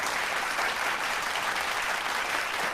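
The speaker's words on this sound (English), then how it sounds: "let's clap that" Podcast hosts clapping in a studio, a short burst of steady applause that is loud and close, with no speech over it.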